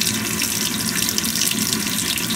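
Water pours steadily from a Zagonel Prima Touch electric faucet into a sink, a constant close splashing hiss without pauses and with no talking.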